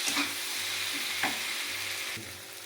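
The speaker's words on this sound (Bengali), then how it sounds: "এবার ঢাকাটাকে খুলে দিয়ে ভালো করে এটাকে নেড়ে দিতে হবে একটু।" Soft pointed gourd and paneer filling stirred in an uncovered pan, with a steady, close sizzle broken by a few spatula scrapes, and no talking.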